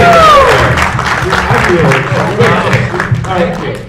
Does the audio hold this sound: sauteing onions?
no